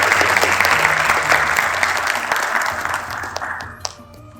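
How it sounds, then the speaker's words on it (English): Applause from an audience at an interfaith iftar gathering in a synagogue, steady dense clapping that holds strong and then thins out toward the end, with a few louder individual claps at the close. "Please, if we may have a round of applause for the Benai Tzedek staff and community for their generosity."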